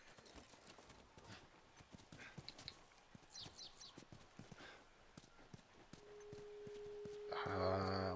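Horse hooves clip-clop in an irregular walking rhythm against a The Last of Us Remastered game soundscape, with a horse whinny and a rising musical tone near the end.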